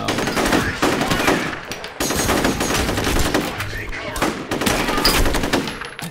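Rapid bursts of automatic gunfire in the shooter game F.E.A.R., loud, dense volleys from several directions with brief pauses, a voice talking over the shooting.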